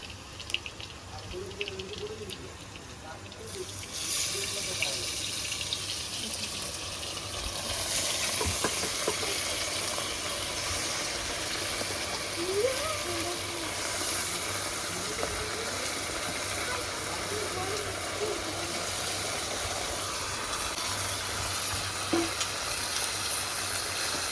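Chicken pieces sizzling in hot oil, a loud, steady frying hiss that jumps up as pieces go into the pan, with occasional stirring sounds.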